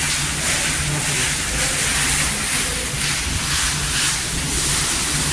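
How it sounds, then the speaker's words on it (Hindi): Heavy rain pours down in Medina, a continuous dense hiss of downpour with a steady rumble and no breaks, while water rises from drainage pipes near a parked car. "बहुत तेज बारिश है।"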